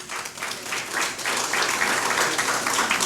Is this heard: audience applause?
yes